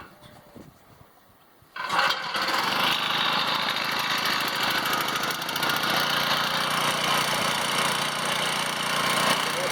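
A free 6.5 horsepower engine salvaged from a snow blower drives a homemade compost turner, starting up after a short quiet stretch and then running loud and steady with a continuous rattling drone.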